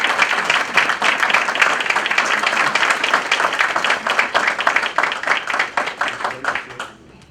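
Sustained applause from the audience at a school board meeting, steady dense clapping that fills the room and then thins out and fades in the final second.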